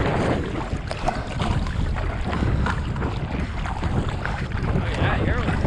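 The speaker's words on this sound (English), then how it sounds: "I wonder how fast I can go paddling." A paddleboard paddled on the Deschutes River in Bend, Oregon: steady splashing paddle strokes and rushing water up close, heavy wind buffeting the microphone throughout.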